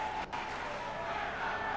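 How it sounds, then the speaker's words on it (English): A steady wash of crowd cheering and noise fills a WWE 2K18 wrestling video game arena, continuous and fairly loud throughout. "The crowd's behind him. He's got a full bar on his performance here, so the crowd's loving it."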